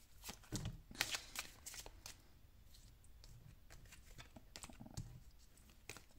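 Tarot cards being shuffled by hand: a run of crisp, papery riffles and flicks in uneven bursts, close and fairly quiet, with no talking.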